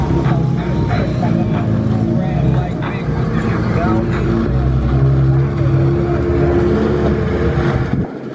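A Nissan G35 warming up on the Motorsport Ranch track, a loud, steady engine drone that holds throughout, with people talking over it.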